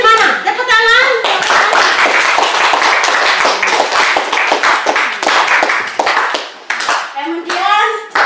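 A group of children in a classroom claps for a winning team, with a loud, dense burst of rapid hand claps and brief spoken voices at the start and end.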